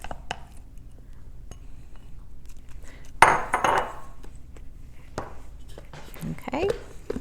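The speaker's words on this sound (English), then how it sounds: "We'll just go ahead and throw the onions in." Chopped onions tossed into a bowl of mango guacamole land with a sudden soft clatter and thump, followed by a few light clinks of utensil against bowl while a person talks.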